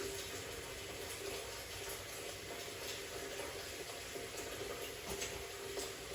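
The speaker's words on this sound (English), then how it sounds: "I'm going to grab my toothbrush and get it wet." A toothbrush is wetted under a running bathroom tap, giving a faint, steady hiss of flowing water with no talking.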